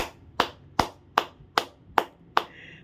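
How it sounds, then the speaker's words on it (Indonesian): Seven evenly spaced sharp hand claps ring out, spaced roughly every 0.4 seconds, clear and close with no talking, a single rhythmic clapping pattern from an audience at a teachers' seminar. "Tepuk tangan dulu dong"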